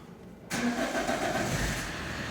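An Opel Zafira B with a 1.9 CDTI Z19DTL diesel engine and a clogged particulate filter starts abruptly after a moment of quiet, cranking straight into a loud, steady idle close by.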